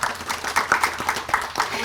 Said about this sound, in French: On applaudit Floriane.